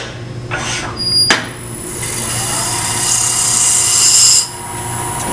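Sandpaper rubbing against a segmented wooden bowl spinning on a lathe, a steady close hiss over the low hum of the running machine, swelling and then stopping near the end.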